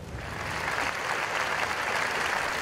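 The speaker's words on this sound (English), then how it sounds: "At the end of the prayer meet, the crowd broke into applause" A crowd applauding in Barcelona's main square after a prayer meeting, a sustained wash of clapping from many hands that builds slightly and holds steady, with no voices.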